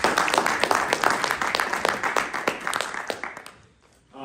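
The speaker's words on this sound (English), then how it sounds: "So a round of applause for Mr. Jose Perez." An audience at a law and immigration discussion panel applauds a speaker, a dense patter of many clapping hands that gradually fades away.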